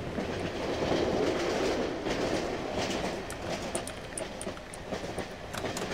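A train rolling along its tracks in the horror game Cry of Fear, a continuous loud rumble with rhythmic clickety-clack of wheels over rail joints and faint high squeals, no voices.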